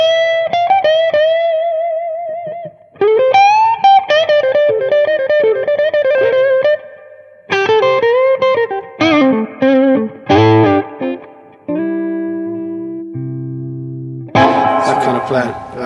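An electric guitar played on the bass pickup, with effects, gives out phrases of sustained, bending notes and chords separated by short pauses, ending in a louder strummed burst.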